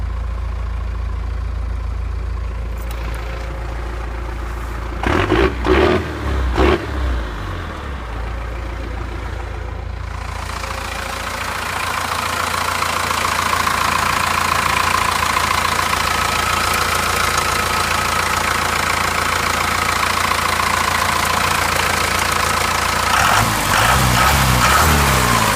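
A 4BT Cummins diesel in a Scrambler, just cold started, settles into a steady, loud, close idle with a knocking clatter, after brief bursts of handling noise early on.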